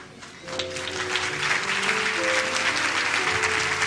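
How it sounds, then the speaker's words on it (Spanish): A church congregation breaks into applause, building quickly from a quiet start into loud, dense, sustained clapping from many hands that carries on to the end. "Le damos un aplauso al Señor que regresó a la orilla"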